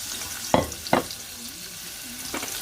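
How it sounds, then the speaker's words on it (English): Half an onion fries in hot oil in a pot for a spicy lamb stew, a soft steady sizzle close by, broken by two quick stirring scrapes near the start and another near the end. "Give that mix to sizzle."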